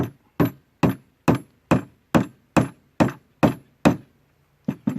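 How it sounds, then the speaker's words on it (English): A hammer taps a wooden piece snug into a drilled hole for a rustic snowman craft, ten sharp evenly spaced knocks, a pause, then two more quick taps, close and dry. "I just take a hammer,"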